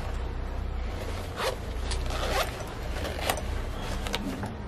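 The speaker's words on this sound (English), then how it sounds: "Then there's a bigger zip." A zipper on a black Pentagon UCB chest bag is pulled open in several short, close raspy strokes over a steady background hiss.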